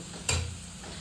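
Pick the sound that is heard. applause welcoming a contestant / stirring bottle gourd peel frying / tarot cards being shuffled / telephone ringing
stirring bottle gourd peel frying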